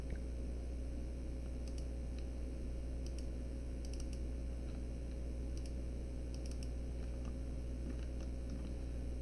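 Keyboard keys and mouse clicks sound in scattered clusters of light taps during 3ds Max modeling, faint over a constant low hum.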